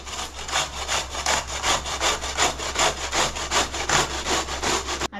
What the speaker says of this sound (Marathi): आणि आता मी किसणीवर किसून घेते.